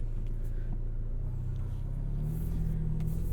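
A 2021 McLaren GT pulling away at the start of a drive gives a low, steady engine rumble heard from inside the cabin, continuous and fairly subdued, with a slight rise in pitch near the end.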